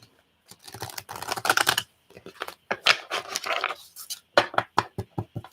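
Tarot cards with a poor finish are shuffled close up in quick bursts of crisp riffling and flicking, separated by short pauses and a few sharp taps.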